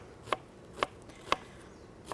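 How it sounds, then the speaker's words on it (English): A kitchen knife slices an onion along the grain at a cooking demonstration, four crisp cuts landing on a board at an even pace, fairly quiet against faint room noise. "I'm gonna slice up my onion. All right, I'm gonna go with the grain here."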